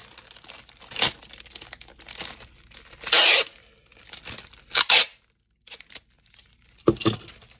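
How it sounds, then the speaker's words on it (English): Packing tape rips off the roll in several sharp, loud bursts and crinkles as it is pressed onto a shipping package holding trading cards, with quiet handling noises in between. "Then I tape this up. I want this to be good and secure."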